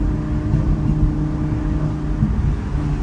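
Continuous engine drone from an Audi R8 Spider being driven, with steady mid-range howl and road rumble held at a fairly constant pitch, no voices.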